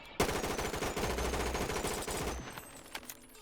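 An M4 UDR rifle fires in Bonelab, a rapid automatic burst of sharp, loud gunshots lasting about two seconds, then cutting off into a brief ringing tail.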